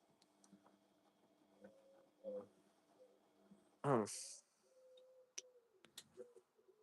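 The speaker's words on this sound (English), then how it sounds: "It's a loud bird." A loud bird call bursts out once amid faint whirring from Hotpoint washing machines and soft taps, with a few quieter chirps afterward.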